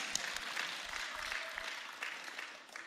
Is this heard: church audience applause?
yes